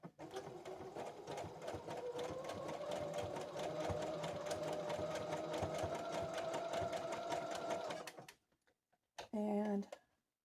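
A sewing machine stitches a mend in a garment with fast, even needle clatter and a motor hum for about eight seconds. It stops, then gives one short final burst, close and clear.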